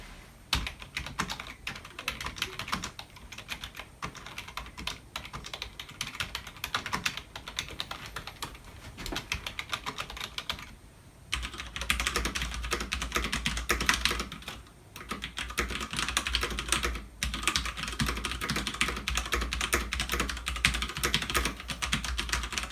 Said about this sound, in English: I'll now demonstrate the sound difference between a traditional membrane keyboard and this mechanical keyboard.